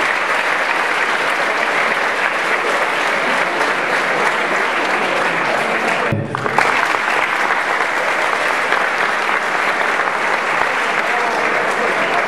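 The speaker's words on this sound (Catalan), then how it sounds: "Un clar aplaudiment" A loud, sustained round of applause from an audience at a high school graduation and diploma ceremony fills the hall, with a brief dip midway before the clapping carries on evenly.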